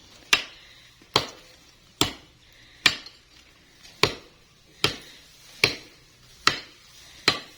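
Sharp chopping blows of a knife strike a tree at a steady pace, about nine hits spaced under a second apart, each ringing briefly before the next.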